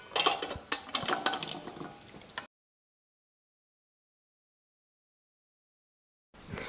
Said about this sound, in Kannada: ಈಗ ಒಂದು ಬುಟ್ಟಿಗೆ ಹಾಕೋತೀನಿ ರೀ.